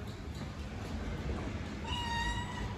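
A cat meowing while being chased, one drawn-out plaintive meow rising near the end over a constant rumbling background, fairly faint and with no talk.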